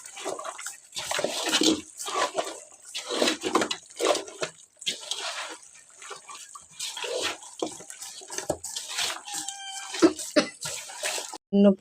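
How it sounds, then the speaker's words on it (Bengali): Rice being washed by hand with water, irregular splashing, swishing and dripping bursts in a home kitchen, fairly faint, with some soft background voices. "চাল মেখে নিছি, এখন ধুয়ে নেব।"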